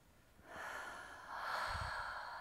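A long, slow inhale during a guided relaxation breathing exercise, soft and airy, rising in two stages and heard alone close to the microphone.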